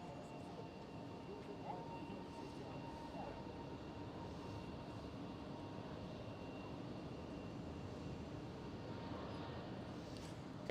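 A steady, faint, distant jet airliner roar at Amsterdam Schiphol airport, continuous broadband rumble without a break.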